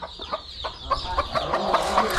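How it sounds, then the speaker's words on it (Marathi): Country hens at a small village poultry farm raising chicks cluck repeatedly in short, close, overlapping calls over a busy farmyard background. "इथे पण कोंबड्या आहेत."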